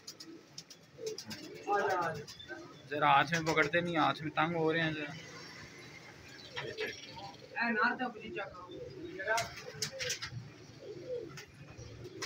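Paired (jodon wale) pigeons with clipped wings at a Rawalpindi bird market, cooing in soft low bursts beneath near, steady conversation between men.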